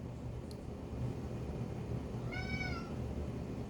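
A single drawn-out meow voiced by a person imitating a cat, heard faintly over a steady low background rumble.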